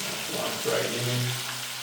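River fish fries in hot oil with a close, steady sizzling hiss that stays level throughout. A faint voice sits underneath.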